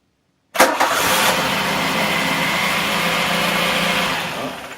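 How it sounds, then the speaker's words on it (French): A car engine cranks and catches after a jump start from an Aukey 12000 mAh battery booster, bursting in loud after a moment of silence, then settling into a steady, close idle with no talking. "on va voir si la voiture démarre."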